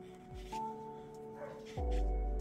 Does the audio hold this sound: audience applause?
no